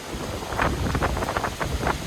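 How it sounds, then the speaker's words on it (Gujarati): Strong wind roars and buffets against the microphone in continuous gusts during a rainstorm in a village, loud and rumbling, with no voices. "બહુ પવન છે અટાણે."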